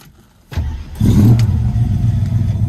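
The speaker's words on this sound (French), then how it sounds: "Et nous avons démarré cette superbe Mustang 67." A 1967 Ford Mustang V8 cranks briefly, then catches and roars to life, settling into a loud, deep, rumbling idle close by.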